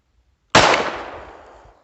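A single sharp gunshot from a Beretta U22 Neos .22 pistol cracks loudly after a brief silence, its report decaying over about a second with no talking.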